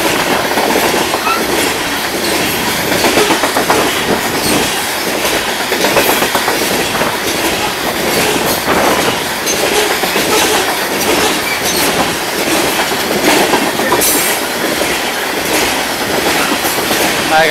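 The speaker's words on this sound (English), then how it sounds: "Like a real long train." A long freight train loaded with coal rolls past nearby, a loud continuous rumble with rhythmic clickety-clack of wheels over rail joints and occasional faint wheel squeal.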